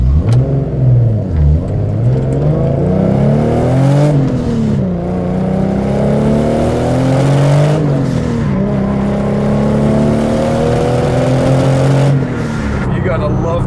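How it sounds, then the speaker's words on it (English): A 1997 Toyota Supra engine revs up through several gears, its pitch climbing then dropping at each shift, with short whooshing blow-off valve bursts between shifts, loud and close. "the way that blow-off valve just goes"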